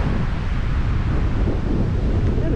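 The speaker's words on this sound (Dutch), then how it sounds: "En het waait weer." Strong wind blows outdoors in Sweden, buffeting the microphone with a loud, continuous low rumble and no pause or speech.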